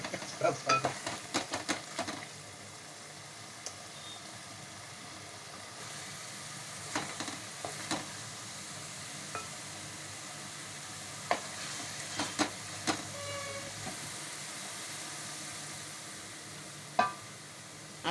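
Ginger garlic paste frying in a pan for chicken curry: a steady close sizzle runs throughout, broken by occasional scraping stirs and light utensil taps, with no voices.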